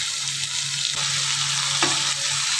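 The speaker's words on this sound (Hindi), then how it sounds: "और गोभी फ्राई करने के लिए बैठा दिया मैंने" Cauliflower pieces fry steadily in a pan, a continuous bright hiss of sizzling oil with a low hum underneath and a couple of faint clinks, close and even throughout.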